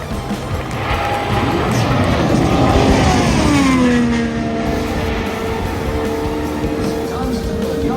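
An Indy 500 race car screams past on a qualifying lap at Indianapolis, its high engine whine sweeping down in pitch as it passes, with crowd noise and a commentator talking over it.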